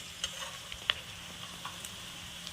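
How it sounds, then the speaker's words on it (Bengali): Onions frying in a pan for a home-raised chicken curry, a faint soft sizzle with a few light ticks and clicks from the utensil, quiet and without speech. "পেঁয়াজ ভেজে নেওয়া হয়ে গেল।"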